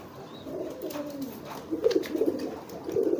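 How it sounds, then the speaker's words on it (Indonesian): Racing pigeons coo softly at close range, a few low throaty rolling coos in short bursts with quiet background noise and no talking. "Ini jenisnya merpati balap."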